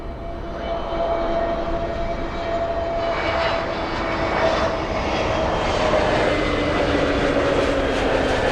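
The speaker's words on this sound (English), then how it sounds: "All right, LA flight coming in." An airliner on approach to land at Miami International Airport passes overhead, a loud continuous jet roar that swells gradually and holds steady, with no voices.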